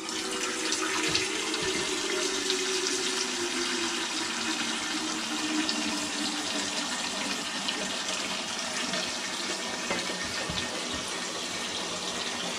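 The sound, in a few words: pouring water into a large dish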